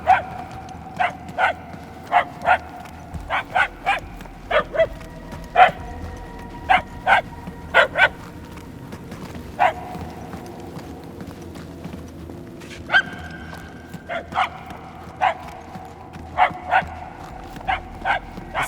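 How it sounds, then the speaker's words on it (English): Repeated dog barks echo through a stone labyrinth in the Guardians of the Galaxy video game, sharp yips in irregular bursts, moderately loud over a low ambient hum, with no talking. "The barks are getting louder, at least."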